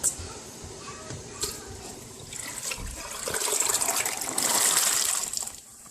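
Soaked peas are poured into a cooking pot for Jamaican rice and peas, making a steady rushing, splashing pour that swells louder toward the end before tapering off.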